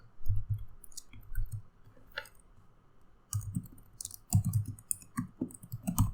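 Keys clatter on a computer keyboard as C code is typed live: irregular bursts of close, crisp clicks separated by short pauses, with a quieter gap in the middle and no voices.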